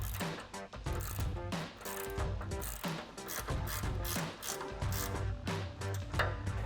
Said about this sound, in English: we can take a 16 millimeter ratcheting wrench on our bolt side and a 17 millimeter ratcheting wrench on our nut side and tighten up our pivot bolts